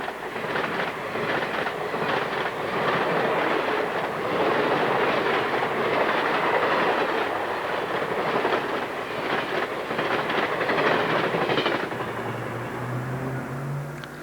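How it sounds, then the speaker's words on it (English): A long passenger train pulled by a big electric locomotive rushes past close by, its wheels clattering loudly over the rails for several seconds before the roar begins to fade. "This is a long passenger train pulled by a big electric locomotive."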